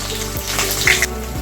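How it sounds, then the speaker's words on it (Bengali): Green chilies sizzle in hot oil with bay leaf and five-spice in a pan, a steady close hiss and crackle throughout. "লঙ্কাটা ভালো করে ভেজে নেবেন"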